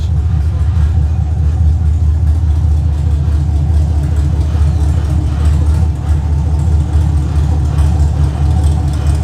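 A Camaro engine with an X-pipe exhaust idles with a deep, steady exhaust rumble, loud and close, holding an even drone throughout.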